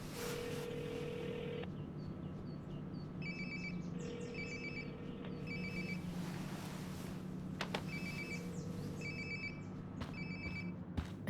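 A phone rings repeatedly in the video game Life is Strange: Before the Storm, a soft electronic ringtone trilling in evenly spaced bursts against a quiet room hum.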